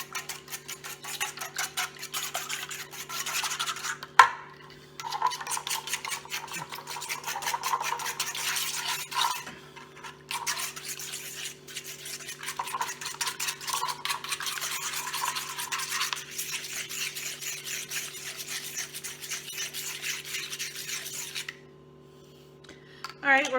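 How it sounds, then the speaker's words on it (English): Two eggs whisked with a small whisk in a bowl, a fast continuous scraping and clinking that runs for about twenty seconds with a couple of brief pauses, close and alone under a steady low hum. "whisk together these 2 eggs"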